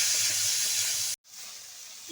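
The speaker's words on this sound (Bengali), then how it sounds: "উল্টে পাল্টে দুই পাশ খুব ভালো করে ভেজে নেব।" Shrimp sizzling in hot oil, turned over to fry both sides: a loud, close hiss that cuts out abruptly, then returns softer and steadier.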